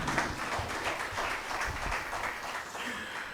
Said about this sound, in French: Je vous prie encore une fois de les applaudir, s'il vous plaît.